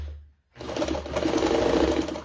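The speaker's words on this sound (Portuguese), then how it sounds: "porque eu nunca costurei nessa máquina, tá?" Old sewing machine stitching fabric piping, starting after a short near-silent pause and then running as a fast, steady, loud mechanical whirr close by, with no talking.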